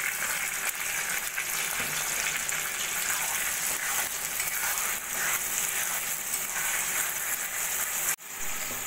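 Spice paste ground in a mixer sizzles loudly as it hits potatoes and onions fried golden in a pan for sola kochu, a steady close hiss that runs unbroken until a brief dip near the end.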